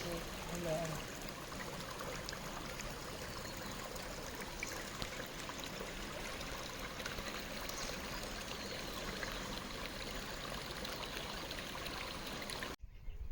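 Water streams steadily over an old zigzag dam from the princely era on the Hiran river, a continuous near rushing wash that holds for the whole stretch before cutting off abruptly at the end.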